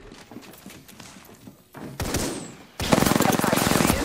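Enemy gunfire in a video game, beginning as scattered muffled pops, then swelling into a loud, close, continuous burst of rapid shots near the end.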